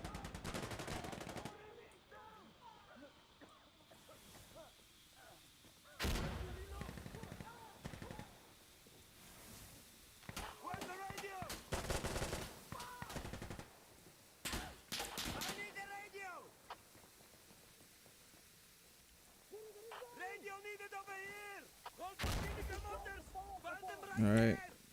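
Gunfire bursts in the video game Arc Raiders, sharp repeated shots in scattered volleys alongside other game sounds, with someone talking over much of it.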